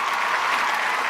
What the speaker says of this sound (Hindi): नौफिर के लिए बहुत सारी तालियां।